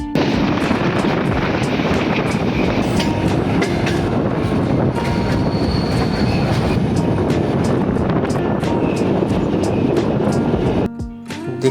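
A passenger train rolls slowly along the tracks on a rural railway line approaching Dinajpur station, a steady close rumble with faint metallic clicks and squeals that drops briefly at the very end.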